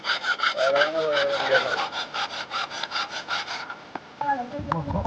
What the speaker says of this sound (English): The arrow shafts are trimmed evenly, smoothed, and balanced by hand.